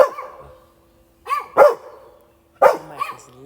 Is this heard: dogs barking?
yes